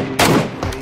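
M4 rifle fire in a battle royale mobile shooter game, a short burst of loud close gunshots lasting under a second.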